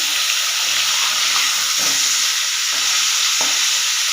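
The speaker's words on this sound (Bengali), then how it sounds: "হালকা এক মিনিট মতো ভেজে নেবো মাছগুলো" Pieces of catla fish fry in a hot pan, giving a steady, loud sizzle with soft stirring scrapes and a couple of sharper spatters, with no talking.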